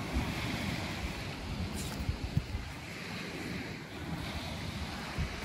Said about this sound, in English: This is your beach.